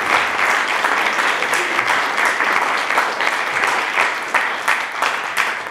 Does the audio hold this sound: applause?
yes